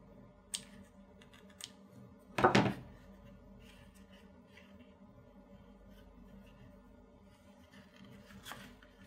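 Scissors snipping excess thread on a shoe's back seam: a soft click near the start, one louder crisp snip in the middle, and another faint snip at the end, heard alone in a quiet room.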